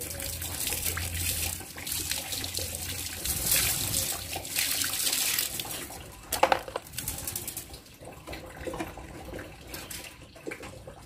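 Water splashes and pours steadily over a civet being rinsed before a shampoo, a close, continuous running-water wash that eases off toward the end, with no talking.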